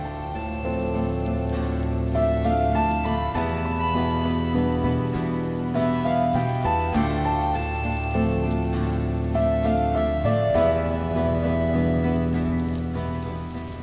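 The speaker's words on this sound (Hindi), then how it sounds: "बाहर बारिश इतनी तेज हो रही है" Heavy rain pours steadily outside, a constant dense wash that sits under prominent background music throughout, with no talking.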